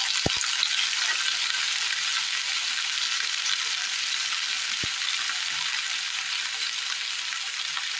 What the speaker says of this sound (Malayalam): ഇതിലേക്ക് നമ്മൾ കഴുകി ക്ലീൻ ചെയ്ത് വെച്ചിരിക്കുന്ന വഴുതനങ്ങ ഇട്ട് കൊടുക്കാം